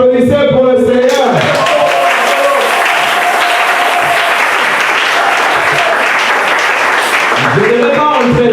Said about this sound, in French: Bon, applaudissez pour le Seigneur.